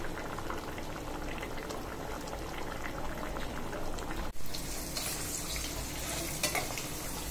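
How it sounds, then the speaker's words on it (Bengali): Lentil dal boils in a pot on the stove with a soft, continuous bubbling and one brief clunk partway through; it is quiet and close, with no talking. "সবকিছু দিয়ে আমার ডাল চুলায় বসিয়ে দিলাম। ডাল ফুটে যাচ্ছে"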